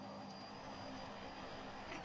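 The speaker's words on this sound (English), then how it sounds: "going full power, and then releasing the parking brake when the engines run at full power" Antonov An-12 turboprop engines at full power in the BeamNG.drive game, with two engines missing, give a steady, dense droning roar that holds unbroken and loud throughout.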